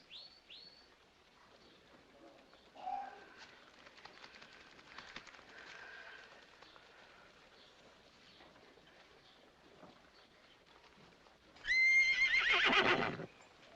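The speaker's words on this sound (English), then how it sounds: "get that horse out of here!" A horse lets out a loud, shrill whinny near the end, after a stretch of faint background sounds and brief chirps.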